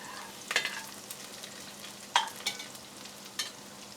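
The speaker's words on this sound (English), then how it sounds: "Then add the chopped garlic into the pot. Give them a stir." Chopped garlic frying in a pot is stirred, with a few quiet, sharp scrapes spaced over a faint, steady sizzle and no talking.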